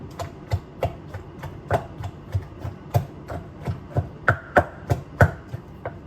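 A pestle steadily pounds spice paste for khanom chin nam ya pa in a mortar, about fifteen evenly spaced dull thuds, close and alone.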